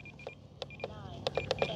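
A radio transmitter's four-minute flight timer sounds a quick series of short, sharp electronic beeps, several spaced irregularly then clustered toward the end, fairly close over a low background hum.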